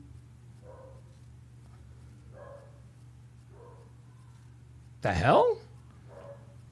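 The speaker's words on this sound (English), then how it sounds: "What's Chester barking at?" Dog Chester gives a single sharp bark, close and fairly loud, following a few faint, muffled sounds over a steady low hum, with a person speaking briefly nearby.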